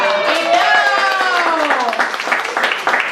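A comedy show audience claps together in a live venue, a dense burst of applause under a performer's sustained speaking voice, staying fairly loud throughout.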